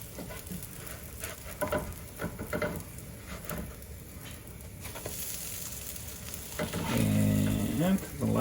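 Kimchi protein pancakes sizzle steadily in a hot pan after being flipped, a continuous close frying hiss with small crackles. It swells louder near the end.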